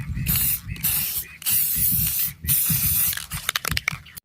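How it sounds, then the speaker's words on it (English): Spray paint is aimed at brown dried flowers in several loud, close hissing bursts separated by brief gaps, with the can rattling and clicking toward the end. "I'm gonna do some spray paint and kind of see if maybe it'll look good in a bouquet"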